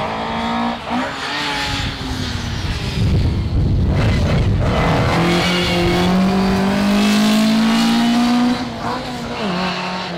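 A Ford Anglia 105E competition rally car with a straight-cut Quaife gearbox and Weber carburetors accelerates hard around tight corners at Lone Park, its loud, revving engine climbing through gears with gearbox whine, close and continuous, with occasional tire noise.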